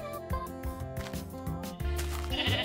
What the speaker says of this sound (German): Alles klar, das Schaf schaut mich an.